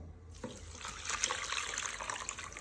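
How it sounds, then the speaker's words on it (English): Water running into a cooking pot, starting abruptly after a short quiet moment and then flowing steadily and close. "I'm going to add water to this, a good amount of water."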